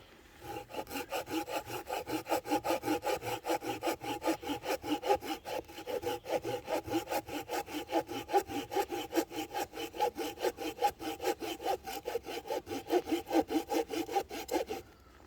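Hand saw cutting through wood at a UK bushcraft den shelter, a steady rhythmic back-and-forth rasp of quick even strokes, close and continuous with no talking.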